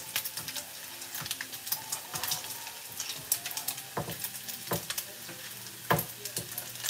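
Vegetables with pepper sizzle in a pan while a utensil stirs them, with close scraping strokes and soft clatters over a continuous frying hiss, and no talk.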